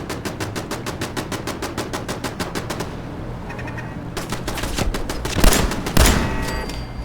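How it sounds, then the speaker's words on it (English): Turret gunfire in the Fallout 4 video game, a rapid evenly spaced stream of loud shots followed by heavier scattered blasts and booms near the end. "Let that turret kind of shoot on him."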